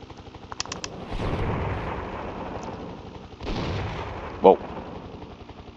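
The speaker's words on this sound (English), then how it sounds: "Shooting at me." Enemy gunfire in the video game Desert Strike: Return to the Gulf, a few muffled bursts and rumbling blasts spread out over a few seconds with one sharp pop near the end, fairly quiet with no talk.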